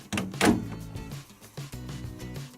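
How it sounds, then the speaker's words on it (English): Door of a White Knight CL312WV compact 3kg tumble dryer being shut, a close solid thunk at the start followed by lighter rattles and a second softer bump, with no talk. "We'll put it in the right way, and we can close the door."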